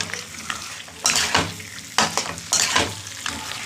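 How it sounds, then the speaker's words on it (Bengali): Spice paste with goat fat being fried and stirred in a pan for a taro dish: a steady sizzle broken by several bursts of vigorous scraping strokes, close and fairly loud. "এবার আমি মশলাটা কষিয়ে নিই।"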